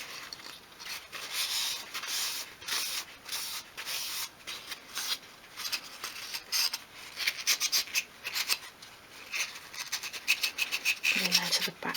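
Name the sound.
wiping excess wood dye off dolls' house furniture with dry cloth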